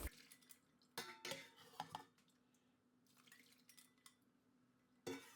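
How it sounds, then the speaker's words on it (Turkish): Juice from softened mixed frozen fruit pressed through a thick strainer: scattered metal clinks and scrapes with light dripping between them, close and quiet. "Böyle kalın bir süzgeçten meyve suyumu süzüyorum."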